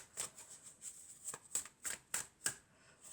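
Oracle cards are shuffled and drawn by hand, producing a series of soft, crisp riffling flicks and slaps in irregular bursts, quiet and close with no talk.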